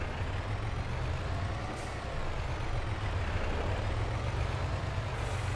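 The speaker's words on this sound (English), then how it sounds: "Oh, traffic." Road traffic in Farming Simulator 22, set in Western Australia, with a steady low rumble of trucks and cars rolling past, a faint air-brake hiss near the end, and a continuous near drone throughout.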